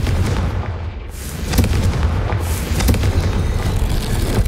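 Confringo fire spell blasts in the video game Hogwarts Legacy, a series of loud booming bursts with crackling fiery rumble over a dense game soundscape, no talking.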